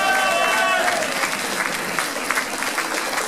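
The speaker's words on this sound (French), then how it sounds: "Allez, venez, on peut les applaudir." An audience claps for the winners of a cosplay contest at the Saiten convention, a thick, lively burst of applause close by, with a voice briefly heard at the start.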